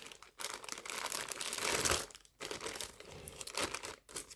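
A plastic bag around a 2021 Colt Anaconda revolver crinkles and rustles steadily and close, with two brief pauses and no talking.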